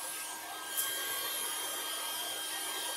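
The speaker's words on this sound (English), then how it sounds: "I have a little blow dryer on my hip," A small blow dryer runs continuously close by, a steady whooshing whir with a faint high whine throughout and no talk over it.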